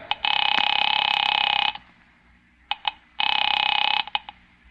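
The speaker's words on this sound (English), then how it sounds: "Picking it up quietly, I dialed my daughter's number, Alec Bartlett's wife." A telephone in an old radio mystery drama is picked up and dialed: two long, steady buzzing tones separated by a few sharp clicks, close and clear, with no voices.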